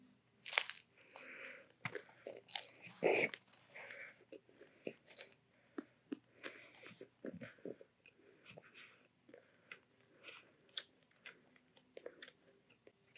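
Crunchy chewing of a Fiery Doritos Locos Taco, close-up bites and crunches in irregular bursts, louder at first, then softer mastication and smaller crackles with quiet pauses between.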